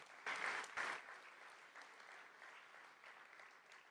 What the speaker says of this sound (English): give another round of applause for the graduating class